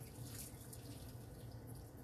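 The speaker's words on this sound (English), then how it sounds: "Rinse off my hands." Kitchen tap water running steadily while hands are rinsed, a faint, even hiss of flowing water at a sink with no talking.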